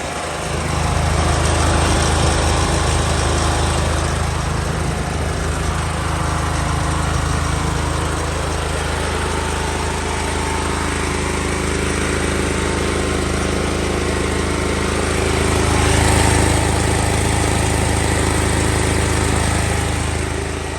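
A home generator engine running on gas, a loud, constant mechanical drone with a slight rise in pitch and volume near the end, no talking.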